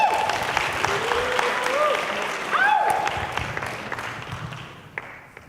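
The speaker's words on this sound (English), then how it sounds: "let's give a round of applause for Natalie Castaneda" A crowd at a student research poster session applauds a student presenter, a steady spread of clapping that fades toward the end while voices and a few whoops rise over it.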